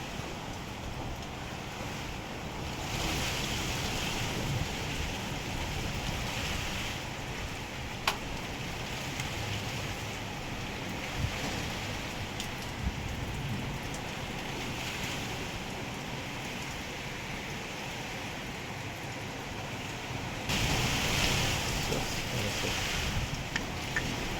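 Typhoon Kristine rain pours in a dense, steady roar with gusty wind, loud and continuous, swelling heavier toward the end.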